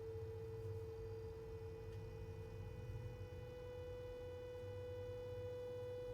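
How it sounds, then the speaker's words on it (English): In the video game Signalis, a steady radio signal tone hums alone beneath a low, fluttering static bed, quiet and continuous with no voices. "Like, the sine wave is changing."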